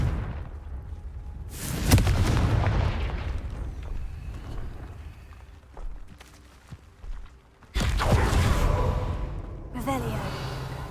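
A Confringo fire spell bursts in Hogwarts Legacy, a loud booming blast followed by a rumbling tail, then a second heavy explosion a few seconds later, with footsteps and softer game sounds between them.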